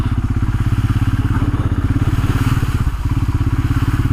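A Royal Enfield Himalayan motorcycle riding easy trails, its single-cylinder engine thumping in a loud, steady, rapid pulse close to the mic, with a brief dip in the beat partway through.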